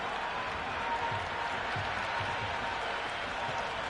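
Stadium crowd applause and cheering from the cricket video game Cricket 26, India versus Australia on day one of a Border-Gavaskar Trophy match, a steady dense roar of clapping held throughout at moderate level.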